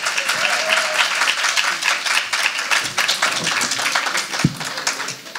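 An afternoon audience at the Jamaica Creative Writing Competition and Exhibition breaks into sustained applause for the MC, a dense, steady wash of many hands clapping close by, with one sharper clap standing out near the end.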